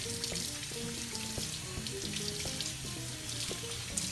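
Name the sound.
rinsing raw chicken breasts under a kitchen tap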